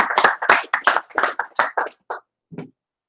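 A small group claps at the end of an online Hebrew language class in Harlem, New York: about ten fairly loud, close, uneven bursts over two seconds, then one softer final clap after a short pause, with no talking.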